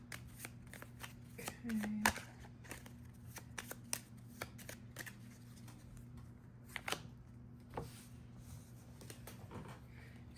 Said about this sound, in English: Draw, shuffle, and draw.